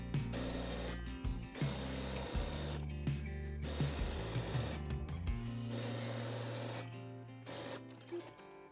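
A sewing machine stitching the seam of a pyjama blouse, running in bursts of rapid mechanical whirring with brief pauses and clicks between stretches as the fabric is turned, close and moderately quiet.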